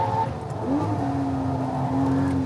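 A Lamborghini Murcielago LP640 race car engine roars close by on a Las Vegas racing circuit, its pitch climbing steadily as it accelerates hard, with a brief tire squeal.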